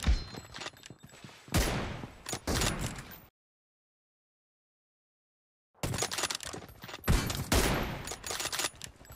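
Gunfire in a video game comes in dense, sharp bursts and quick volleys, broken by a few seconds of complete silence before another run of shots.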